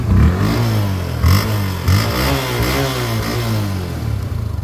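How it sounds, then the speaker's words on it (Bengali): A 2020 motorcycle engine in fresh condition revs up and down close by, a loud throaty drone rising and falling in pitch over several throttle blips. "ইঞ্জিন সাউন্ডটা একটু"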